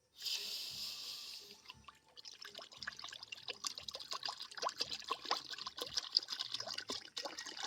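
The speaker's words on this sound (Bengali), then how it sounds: "এবারে কড়ার মধ্যে দিয়ে দেবো জল" Water poured into a karai on a lit stove, about a litre measured out for homemade lemon-lime soda, splashing and trickling in a steady stream with small drips and splatters, close and fairly quiet, no one speaking.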